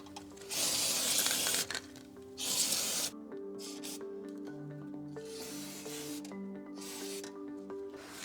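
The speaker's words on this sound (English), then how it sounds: "I actually have to spray some anti-rust proofing spray" Anti-rust proofing spray hisses onto the back of a car body panel during paintless dent repair, two close bursts of about a second each, followed by softer rubbing and faint hum.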